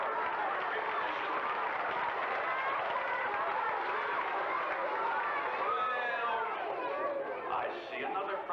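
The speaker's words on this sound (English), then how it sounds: "let's give my friend a nice big round of applause for her recognition" Elementary school audience at a magic show, a fairly faint continuous mix of chatter and scattered clapping from the crowd, with children's voices rising near the end.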